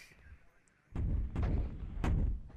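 Heavy artillery fire in the Cold War strategy game WARNO: three loud, booming shots about half a second apart, following a quiet stretch with faint background noise.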